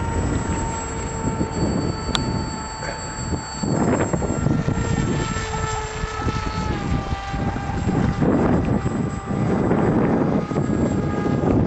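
An AXN Floater Jet RC airplane buzzes overhead in strong wind, motor pitch rising and falling as it maneuvers, with continuous gusty wind rumble over the microphone.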